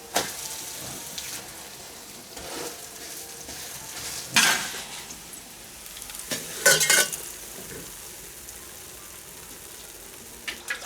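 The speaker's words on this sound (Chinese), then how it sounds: "翻一下，煎这面" Food sizzles steadily in a pan over a wood-fired stove in a rural kitchen, with a few louder scraping bursts as a spatula flips it, all fairly close.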